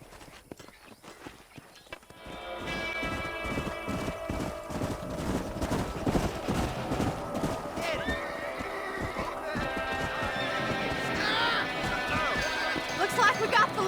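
Horses gallop in Red Dead Redemption outside Armadillo, a fast, dense clip-clop of many hooves that starts after a quiet moment and grows louder and busier, with game music and speech mixed in.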